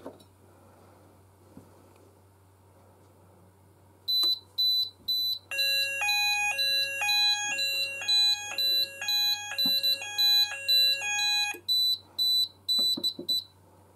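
An Apollo XP95/Discovery fire alarm system's sounders play loud electronic tones alternating between two pitches, mixed with rapid repeated beeps, before stopping into a few scattered beeps.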